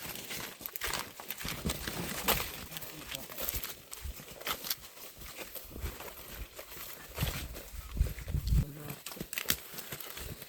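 A horse walks on a farm during a vegetable harvest, its hooves clip-clopping in an uneven rhythm under people talking nearby.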